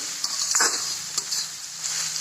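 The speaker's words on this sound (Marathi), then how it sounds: "हिरवी मिरची लसूण आणि कांदा एवढ्या तेलामध्ये कांदा परतून होते" Onion, green chili and garlic frying in a small amount of oil, a steady bright sizzle with a few brief stirring scrapes near the start and middle, close and fairly loud with no talking.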